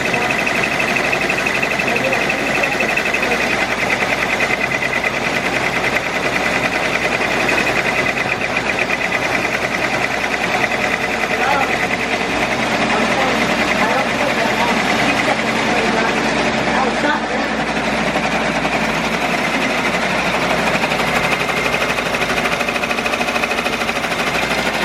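A Melco EMT16X multi-needle embroidery machine stitching a shirt, running steadily and loudly throughout with a constant mechanical whir and rapid stitching rhythm, with talk mixed in.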